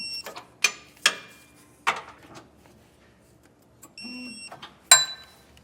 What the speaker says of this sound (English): we'll use our torque wrench to torque down those 4 flange nuts